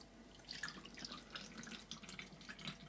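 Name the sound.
pouring oat milk through a fine filter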